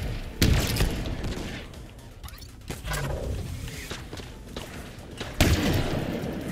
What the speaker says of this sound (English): Well, this grenade launcher is kind of OP for this.